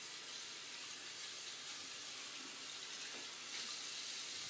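Tap water runs steadily over hands being rinsed at a sink, a soft continuous hiss and splash at close range with no talking.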